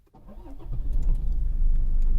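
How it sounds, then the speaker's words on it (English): A 2021 Toyota Fortuner 4x4 automatic engine cranks and catches, then settles into a low, steady idle rumble close by. "Let's start the engine"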